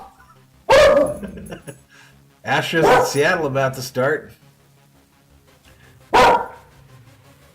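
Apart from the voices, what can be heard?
dog barking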